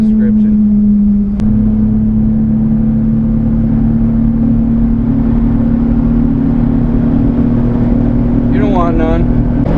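Mini-truck engine holding a steady high-revving drone at about 5,000 RPM while driving at 75 km/h, loud and continuous throughout, with a brief knock early on and a voice speaking near the end.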